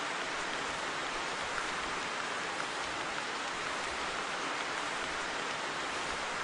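Rain falls outdoors as a soft, even hiss that holds steady throughout, with no voices and no distinct individual drops.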